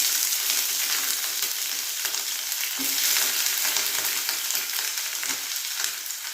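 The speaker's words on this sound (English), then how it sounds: "So it's time to dip our sardines in, guys." Sardines (omena) frying in hot oil for a coconut omena dish, a loud continuous dense crackling sizzle close up, steady throughout with an occasional faint clink and no speech.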